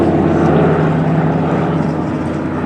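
Sky Trooper propeller aircraft in a flying display at Duxford, its engine droning loud and steady overhead with a sustained harmonic hum that eases slightly toward the end.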